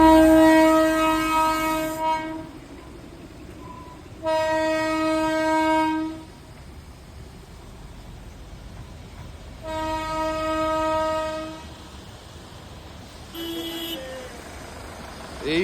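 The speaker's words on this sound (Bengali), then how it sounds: "আর হঠাৎ করে ট্রেন চলে এসেছে," A train passing a road crossing on a Himalayan trip sounds its horn in repeated long, loud blasts separated by pauses, with the rumble of the moving train underneath and no talk.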